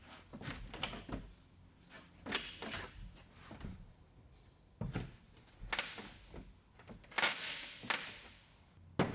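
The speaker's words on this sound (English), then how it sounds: "keep working our way down with the hammer to loosen it." Floorboards loosened with a hammer and crowbar in a shop loft: a series of sharp, close hammer blows and wooden thuds at irregular intervals, separated by quieter scraping and creaking of the boards.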